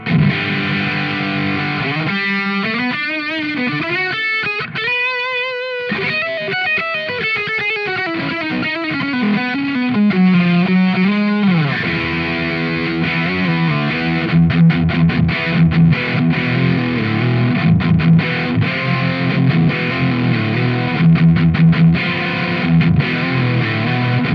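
Electric guitar runs through stacked distortion pedals, with thick fuzzy chords and sliding bends giving way to choppy rhythmic strumming and tremolo-like stutters, loud and continuous with no voices.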